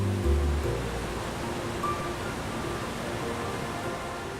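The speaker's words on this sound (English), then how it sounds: "you can walk behind it, totally behind the waterfall" Steady roar of a waterfall plunging over an overhanging ledge, heard up close as a dense, continuous wash of noise with spray, no voices.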